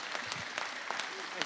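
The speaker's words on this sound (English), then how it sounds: "Let's give the governor of the state of Connecticut, Ned Lamont, a round of applause as he takes over the microphone" An audience claps for Connecticut Governor Ned Lamont at the Bridgeport qualifier, a short burst of dense, continuous applause with scattered sharper claps.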